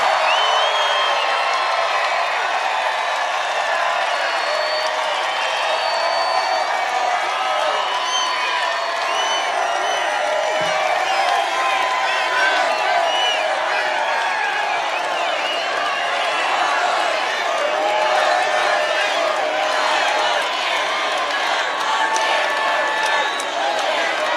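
A large crowd at a political rally in Reno, Nevada cheers, whoops and claps in a loud, sustained roar that fills the space without letup.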